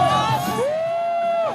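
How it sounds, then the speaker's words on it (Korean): A crowd of citizens at a pre-dawn street gathering cheers and shouts at a passing police transport vehicle, with loud whooping voices and a rising then sustained shout over a dense roar of babble. "경찰차 보고 환호하는 거지"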